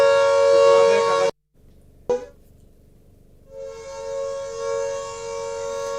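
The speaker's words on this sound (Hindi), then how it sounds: "डीसी ऑफिस से ऑर्डर आए हैं कि लगभग 20 से 25 मिनट तक ये सायरन बजाए जाएं" Civil defense air raid sirens wail in Chandigarh, a loud sustained tone that cuts out abruptly, followed by a brief clatter, then the sirens rise again in the distance, steady and layered.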